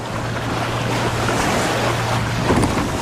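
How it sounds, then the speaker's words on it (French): Small, unsteady motorboats heading out to sea off Grande Comore, a steady loud wash of engine drone, water and wind noise with a low hum throughout, no voices. "Équipés de moteurs incertains et de barques instables, nous partons en mer."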